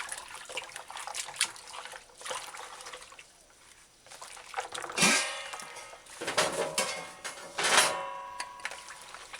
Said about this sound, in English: Give MANBACK a proper rinse.